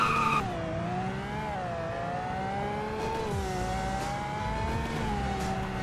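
A car in Roblox Greenville runs a 0 to 100 braking test: a steady engine tone climbs and holds, then the car brakes hard with faint tire squeal, heard alone and fairly close.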